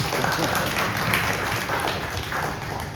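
Audience at a cultural group's spring gathering applauding the performers and lecturers, sustained crowded clapping at an even level throughout, fairly close and busy.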